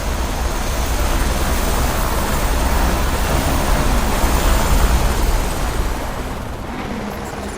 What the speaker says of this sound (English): Helicopter's really loud.